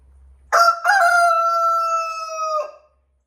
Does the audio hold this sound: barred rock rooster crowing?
yes